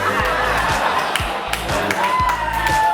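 Audience at a late-night comedy show at Belushi's clapping and cheering, a dense steady wash of applause with scattered whoops and a few sharp thumps, close and loud throughout.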